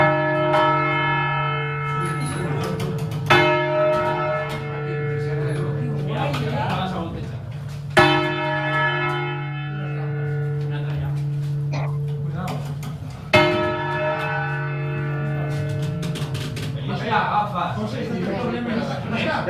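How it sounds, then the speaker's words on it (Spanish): Large church bell in the Ribera del Duero, rung by hand, strikes loudly about four times with long ringing decays overlapping, while faint voices murmur in the background. "Ya están las 3 campanas listas."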